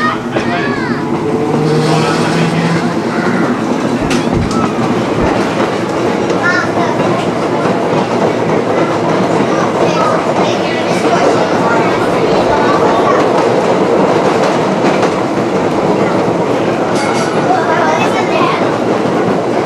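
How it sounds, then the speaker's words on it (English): A heritage trolley train rolls along the rails at a campground line, its steady loud rumble and rail clatter running throughout, with some talk over the top. "there are two platforms here to accommodate trolleys stopping to let off passengers and then moving forward"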